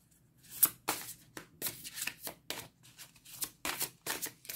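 A deck of cards is shuffled for a card reading: a close, crisp run of about a dozen quick riffling bursts in an uneven rhythm, with no talking.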